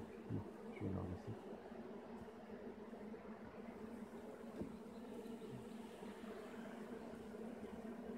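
Bees buzzing around an opened beehive, a faint steady hum from a swarm of insects with a few louder passes close by.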